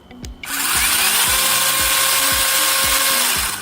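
A Dasher electric chainsaw is switched on after a couple of faint clicks, its motor whining up to a loud, steady close drone with a regular rattling pulse from the chain, and no one speaking over it.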